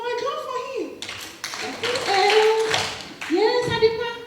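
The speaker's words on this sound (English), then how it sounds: "Good boy, clap for him." Schoolchildren in a classroom break into a burst of applause for a classmate, lasting about two seconds. Children's and a teacher's voices come just before and just after it.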